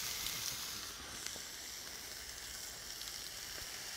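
Irish fillet beef searing in a hot pan, a steady close sizzle running throughout with faint crackles and no talk.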